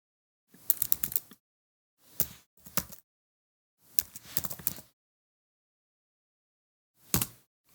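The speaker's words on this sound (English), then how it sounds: "go to a new line, indent, and type in background position" Computer keyboard keys clatter in short, quick bursts as code is typed, with separate clusters of clicks broken by silent pauses.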